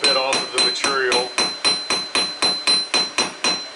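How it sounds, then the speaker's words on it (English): A blacksmith's forging hammer strikes hot metal on an anvil while drawing out a round and flat taper, about a dozen sharp ringing blows in steady rhythm, close and loud, the first few quicker and denser. "I can feel that my hammer is actually returning back a little bit off of the material."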